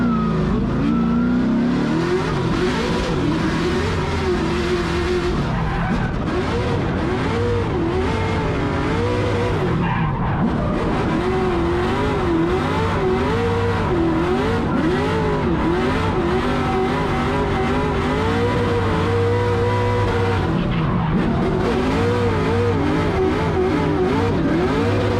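Drift cars, a Drift HQ S-chassis and a BMW, battling at a Formula Drift New Jersey event. Engines rev loudly and rise and fall in pitch, with tires squealing through a continuous, close chase run.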